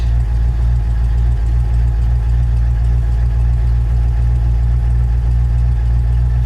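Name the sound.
1984 Ford Ranger 302 engine idling after Canadian cold start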